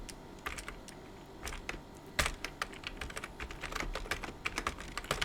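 Typing on a computer keyboard while coding an HTML form and MySQL update, a close, steady patter of key clicks with irregular rhythm and no voice over it.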